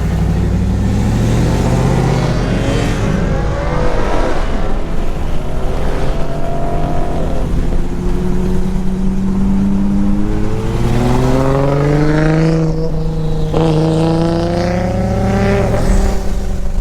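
An RB-swapped Nissan 240SX making roughly 390 to 400 wheel horsepower revs and accelerates, its loud engine note climbing repeatedly through the gears, close and continuous with no talk.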